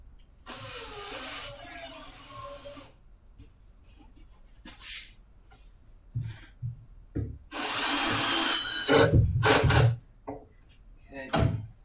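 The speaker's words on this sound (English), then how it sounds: "Get about 4 screws in here, and then I think I'll be happy with that." Power drill driving screws into wood during a spring building project, short bursts of whining motor separated by pauses, close and loud, with brief handling knocks between runs.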